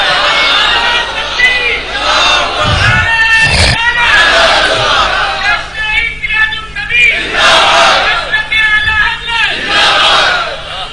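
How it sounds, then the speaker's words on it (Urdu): Crowd chanting slogans at a religious gathering, loud collective voices rising in repeated waves of shouted phrases, with an amplified room sound and some lower rumbling beneath. "ذرا بیچ بیچ میں نعرے لگتے رہے نا بھائی"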